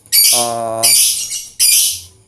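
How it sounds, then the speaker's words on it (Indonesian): Lovebird, a lively high-strung type, letting out three loud, harsh squawks close by, the middle one briefly tonal, with short gaps between bursts and no other sounds. "Jadi kita harus memilih lovebird yang vector, yang benar-benar mempunyai emosi tinggi."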